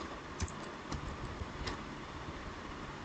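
Faint typing on a computer keyboard while filling in an Excel spreadsheet, a few scattered soft key clicks over quiet background hiss.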